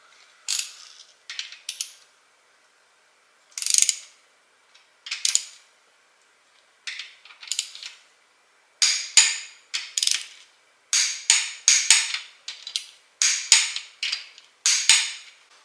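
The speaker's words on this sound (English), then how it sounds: "the reason why I love this digital torque wrench" Repeated ratcheting clicks of a digital torque wrench tightening rod bearing bolts on a BMW S85 V10 engine, in short close bursts separated by pauses, growing busier and more rapid toward the end.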